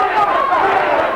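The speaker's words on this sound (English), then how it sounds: "You hear the crowd chanting Breland." A boxing arena crowd during the Aaron Davis versus Mark Breland fight, a dense, steady roar of many voices chanting together with no break, loud and close throughout.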